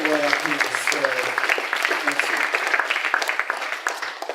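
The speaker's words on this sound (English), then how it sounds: "Give him a clap." Applause from an audience at a talk on balancing life and medicine, a dense patter of claps, with speech-like voices over the first seconds and clapping continuing steadily to the end.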